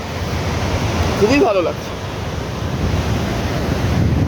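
Bay of Bengal surf roaring steadily near the coastal road, a broad continuous wash with wind buffeting the microphone, while a voice speaks briefly over it early on.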